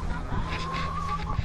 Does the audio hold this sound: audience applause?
no